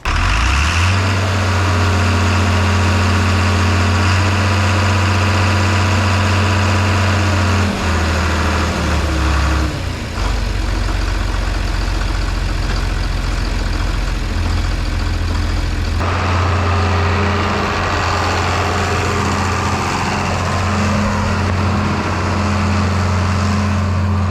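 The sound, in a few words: lawn mower engine running and idling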